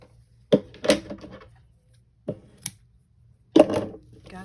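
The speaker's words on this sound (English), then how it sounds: "I'm going to cut my ribbon for this." Scissors cut ribbon in a few crisp, separate snips with short pauses between them, close and clear in an otherwise quiet room.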